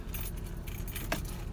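A bunch of keys on a keychain jangles close by, a bright metallic rattle that swells briefly near the end. A car engine hums low underneath, and no one talks.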